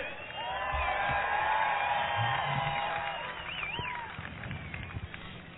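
A crowd at a sprint boat race whoops and cheers, a swelling wash of voices and shouts building then slowly fading, heard at moderate distance with a few louder individual yells.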